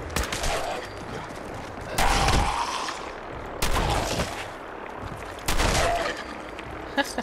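Gunfire from the video game Fallout 4 comes in four loud, separated bursts spaced a second or two apart, with a steady low background bed between them.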